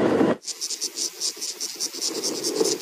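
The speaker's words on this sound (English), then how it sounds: "finally, we get to show you some cicadas" Cicadas buzz in a steady, pulsing drone of rapid high rattling bursts, loud and close, during a safari sunrise drive, after a brief low rumble at the very start.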